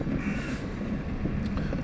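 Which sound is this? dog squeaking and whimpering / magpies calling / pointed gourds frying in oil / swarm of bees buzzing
magpies calling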